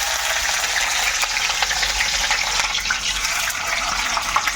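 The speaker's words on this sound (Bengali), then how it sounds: "এবার আমি অল্প পেঁয়াজ দিয়ে অল্প অল্প করে ভাজবো" A few onions fry in heated oil for a restaurant-style chicken biryani, producing a loud, continuous, close-up crackling sizzle with faint bubbling, heard alone without any talk.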